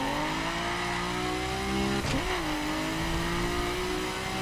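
Dragster engine in The Crew Wild Run roaring steadily at high revs while warming its tires before launch, with a sharp squeal and pitch dip midway, then settling back to a loud sustained drone.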